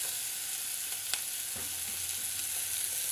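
Chopped capsicum and onions sizzle in hot oil in a pan, a constant soft frying hiss with occasional light scrapes and clinks of stirring, close and moderately quiet, no speech.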